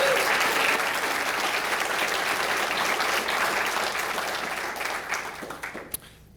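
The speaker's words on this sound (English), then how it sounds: "let's give him and his team another round of applause" Award ceremony crowd in Boulder gives a sustained round of applause for the event's organiser and his team, dense and even clapping that thins and fades out near the end.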